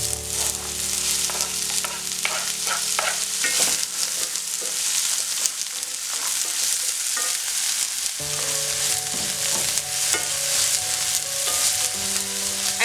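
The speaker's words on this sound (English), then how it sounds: "Right now we're going to go ahead now and add the onions." Onions frying in oil in a pot for an eggplant and potato curry give a steady, close crackling sizzle with stirring noises, over a continuous musical background.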